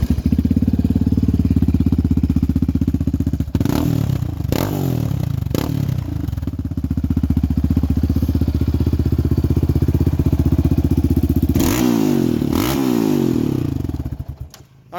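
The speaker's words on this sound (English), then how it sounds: "Alright, and now the big gun exhaust." A 2016 Raptor 700R ATV single-cylinder engine fitted with a Big Gun Evo R dual exhaust, loud and close, idling with a deep throbbing pulse, punctuated by several sharp throttle blips that rise and fall, before cutting off.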